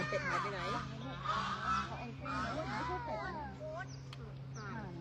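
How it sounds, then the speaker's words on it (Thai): Geese honk repeatedly in a harsh, nasal chorus close by, while a child and an adult talk over them. "อันนี้ห่านลูก"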